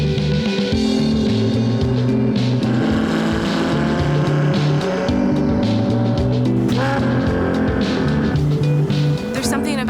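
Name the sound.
Ferrari car driving on narrow twisty Italian roads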